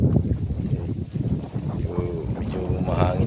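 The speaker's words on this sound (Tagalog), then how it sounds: "Medyo mahangin na rin." Gusty wind buffeting the microphone on a fishing boat in loud, uneven surges, with a faint voice partly buried underneath.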